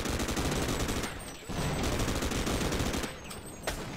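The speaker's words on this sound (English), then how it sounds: "Stop shooting at me." Gunfire in the video game Sven Co-op, a dense, loud, continuous burst of rapid shots that fills the whole clip with only short dips, no talking.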